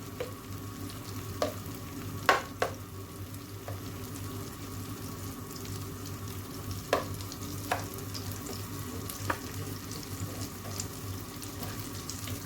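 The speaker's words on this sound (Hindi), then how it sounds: "जी यहाँ पे बटर मेल्ट हो रहा है।" Butter melting in a pan gives a quiet, steady low sizzle, broken by a few sharp clinks and taps.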